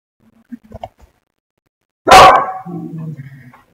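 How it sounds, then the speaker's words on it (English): Dogs barking nearby in a home, a burst of loud barks alone after a few faint earlier yips, with quieter growl-like sounds trailing off. "Sorry about the dogs barking."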